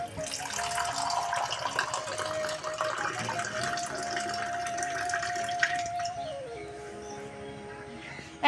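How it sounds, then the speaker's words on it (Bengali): Water is poured in a steady stream into a vessel for drinking, its pitch shifting as it fills, before the flow tapers off and stops. "তার আগে একটু জল খেয়ে নেব"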